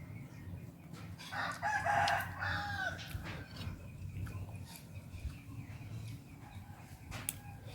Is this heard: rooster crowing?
yes